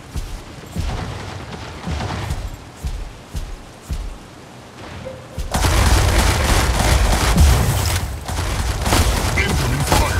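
Gunfire from enemy mechs in the video game Mech Arena: sparse scattered shots and thumps at first, then a loud, dense barrage of continuous fire and blasts for the last half, with a voice faintly underneath.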